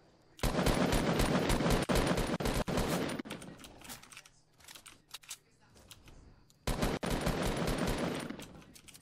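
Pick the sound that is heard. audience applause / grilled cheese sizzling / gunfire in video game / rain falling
gunfire in video game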